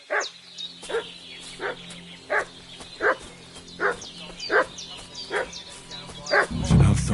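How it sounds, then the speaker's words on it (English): A dog in the medieval video game Kingdom Come: Deliverance II barks repeatedly in a steady rhythm, about ten sharp barks spaced under a second apart, fairly close, with a low thump at the end. "What's that dog making such a fuss about?"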